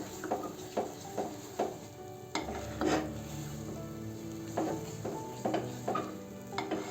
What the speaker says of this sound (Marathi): असं छान फिरवून घ्यायचं